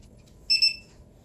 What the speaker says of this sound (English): when it's done sniffing, it'll beep and tell you